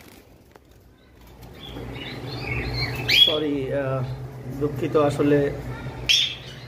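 Caged pet birds at a bird seller's squawk and chirp in short bursts close by, with scuffling flaps between cries, while someone speaks briefly over the commotion.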